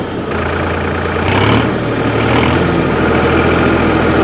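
A Solis 4215 tractor diesel engine, under 43 HP, revs toward maximum RPM, loud and close, its heavy rumble rising in surges then holding a steady high drone.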